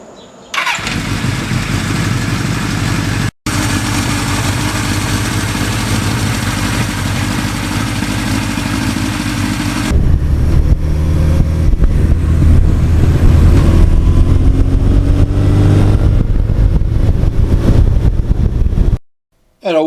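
A 1982 Suzuki GS1100E motorcycle runs loud and close, its engine note climbing and changing as it shifts through the gears, with heavy wind buffeting over a steady roar.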